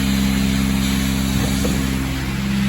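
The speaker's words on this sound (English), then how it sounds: "Here's the ice blasting machine, cold jet machine." A Cold Jet dry ice blasting machine runs in a detailing shop, a constant loud mechanical drone with a steady low hum, unchanging throughout and with no voices.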